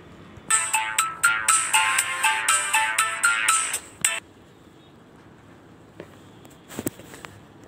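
A phone ringtone plays in a repeated musical ringing pattern while a call is being placed, loud and close for about four seconds, then stops, followed by a few faint clicks and a small clatter.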